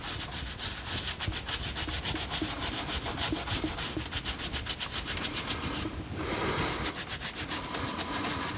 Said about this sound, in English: just give the trunk a bit of a scrub, and there's a bit of moss on it.